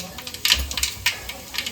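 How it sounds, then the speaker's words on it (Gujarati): Mustard seeds crackle and pop in hot oil in a pan, a steady scatter of small sharp snaps with a few louder bursts over a soft sizzle. "રાઈ ફૂટી જાય એટલે જીરું"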